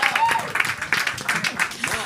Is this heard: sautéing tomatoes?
no